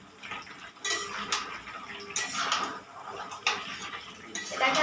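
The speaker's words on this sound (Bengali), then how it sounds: "ঢাকনাটা খুলে দিলাম।" A metal lid lifted off a pot of cooking duck meat, with several close clanks and clatters of metal on metal spread across a few seconds over a quiet room.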